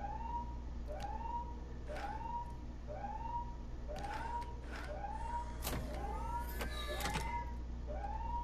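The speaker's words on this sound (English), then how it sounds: "The hatch is opening." A hatch opens in the Vader Immortal Episode 1 VR game, marked by a steady series of rising, whooping alarm tones about once a second, joined later by sharp hissing mechanical bursts over a constant low hum.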